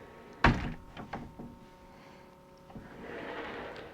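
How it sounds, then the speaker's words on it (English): A pocket door inside a converted skoolie bus slides shut with a sharp thunk early on, followed by a few lighter knocks and rattles and a faint rustle, close and clear with no talk. "And just like a normal pocket door, you close it."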